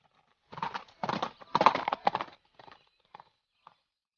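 A horse carrying schoolchildren on a steep hill road clip-clops in a few clustered bursts of hoofbeats, loud at first and then thinning to sparse, quieter taps.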